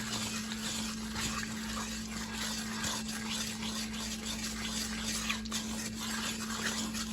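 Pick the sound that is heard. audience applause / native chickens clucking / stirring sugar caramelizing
stirring sugar caramelizing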